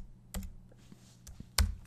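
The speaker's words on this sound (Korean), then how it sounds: "여기에서 창들을 눌러서 Ctrl Alt 마이너스를 눌러주세요." Computer keyboard keys tapped while running Photoshop shortcuts: a few sharp, separate clicks spaced irregularly over two seconds, close and fairly loud, alone without talk.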